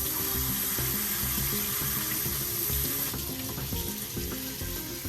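Kitchen sink spray head pouring water over grains in a strainer, a steady close hiss and patter of water with faint rattling of the grains, no talk.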